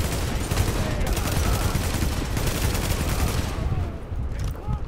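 Sustained gunfire from the video game Tom Clancy's The Division, a dense continuous barrage of shots and bursts filling the whole stretch, loud and steady before easing slightly near the end.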